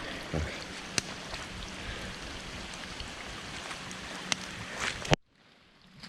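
Storm water runoff from nearby fields rushes through a usually dry stream in a steady, close hiss of flowing water that cuts off abruptly near the end.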